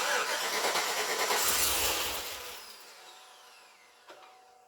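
A newly installed engine in a 2008 Chevrolet Suburban cranks with a rough, loud whirring, then the noise fades away without settling into a clear idle.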